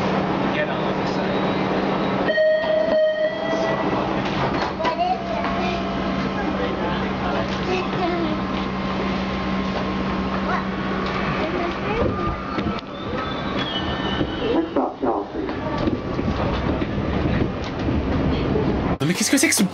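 Subway metro train heard from inside a car, with a loud continuous rumble, clickety-clack, and squealing wheels over a steady drone. Voices talk over the noise throughout.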